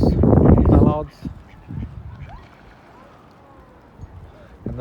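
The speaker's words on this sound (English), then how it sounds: "Lots of swans, geese, a few ducks, mallards." Ducks and geese around paddlers on open water, a loud burst of quacking and honking at the start, then scattered fainter calls and splashy lapping water.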